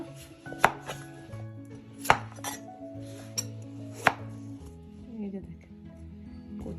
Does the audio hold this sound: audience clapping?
no